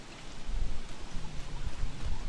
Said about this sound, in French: Comment survivre à la pluie de grenouilles?